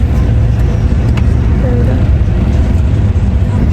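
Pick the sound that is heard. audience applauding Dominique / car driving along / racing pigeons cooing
car driving along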